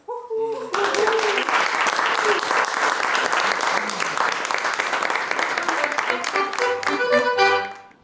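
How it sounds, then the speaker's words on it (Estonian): An audience at a celebration breaks into loud, continuous applause right after a short spoken line, a dense wash of clapping that holds steady for several seconds before fading as music returns near the end. "isadele, vanaisadele, vanematele suured aplausid"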